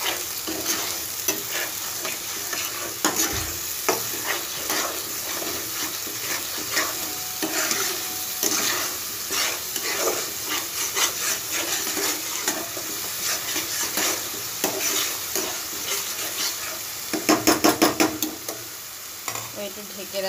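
Mutton masala with Kashmiri chili powder is stir-fried in a pan, a continuous sizzle with scraping strokes of the spoon and a burst of sharper clatter near the end.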